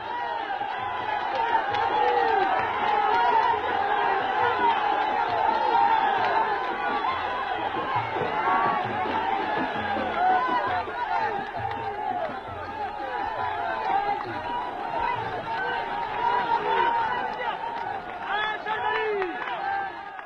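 A large festive crowd gathered in the desert near Tarfaya makes a dense, steady roar of many voices, with cheers, whoops and scattered clapping rising and falling throughout, close and loud the whole time.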